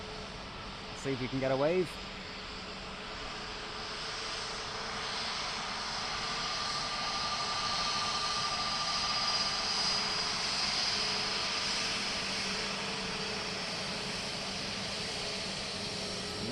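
An ATR turboprop airliner at Dublin Airport holds a steady, moderately loud engine drone from a middle distance, after a short stretch of speech near the start.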